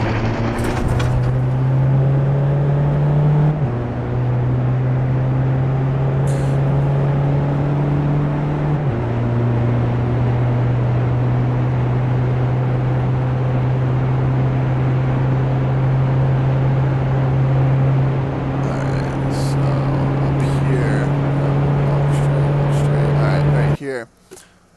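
A VW Jetta TDI engine drones and pulls through its gears in the iRacing game, a loud steady tone stepping between shifts over nearly half a minute, with a voice talking over it.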